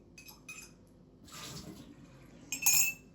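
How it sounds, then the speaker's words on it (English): A Breville Oracle Jet BES985 espresso machine dispenses hot water from its outlet into a cup for an Americano. Faint, short hissing gushes of water come in bursts and end with a brighter splash near the close. "You've got hot water output here, so if you want to do a long black or Americano, you can just add the hot water like this."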